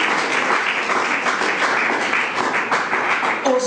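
Steady applause from a church congregation fills the whole stretch, dense and continuous, with no voices breaking through.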